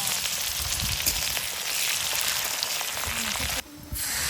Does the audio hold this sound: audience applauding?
no